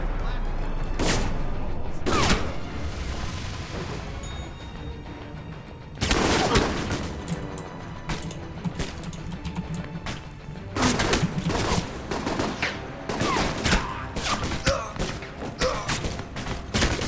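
Explosions and bursts of gunfire roar through an Alpha Protocol combat scene, loud overlapping blasts and rapid shots filling most of the stretch, with a brief lull before a heavy boom restarts the barrage.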